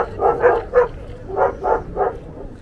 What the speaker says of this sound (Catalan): La primera part del partit són dos gossos corrent una vaca.